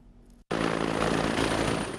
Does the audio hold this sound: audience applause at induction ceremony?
no